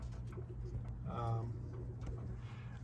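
Racing pigeons in a loft give a soft, low coo that swells briefly mid-clip over a steady murmur of birds, with a person talking nearby.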